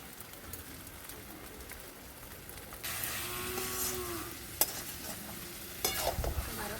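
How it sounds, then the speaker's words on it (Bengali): Green jackfruit being stir-fried with salt in a pan, soft frying hiss with scraping stirs that grow louder midway, a few sharp clinks of the utensil against the pan. "আরও খুব সুন্দর করে আমি কষে নিচ্ছি।"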